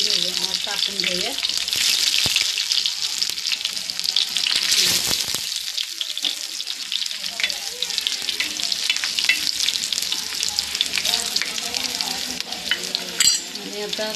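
Garlic fries in hot oil in a pan with a loud, steady sizzle that runs throughout, broken by occasional stirring scrapes and light clinks.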